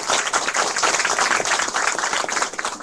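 Dense, continuous applause from a crowd greets an introduced guest at a taxi workers' union meeting with a presidential candidate, loud and steady for the whole stretch.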